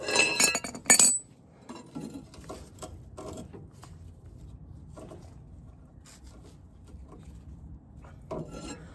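Metal crowbar prying at a Land Rover Defender trailing arm bush, giving a few sharp clinks and scraping knocks near the start, then scattered fainter taps and rubs over a quiet background.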